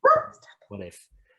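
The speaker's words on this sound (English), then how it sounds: "the dogs seem to agree with me" Dogs bark in a couple of short, sharp bursts indoors, heard at moderate volume alongside a speaking voice.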